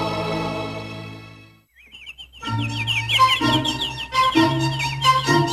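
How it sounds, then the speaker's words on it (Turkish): A single bird chirps in quick, high, warbling notes, fairly close and clear, after a brief quiet gap; a soft tonal hum fades out before it. "It's a bird."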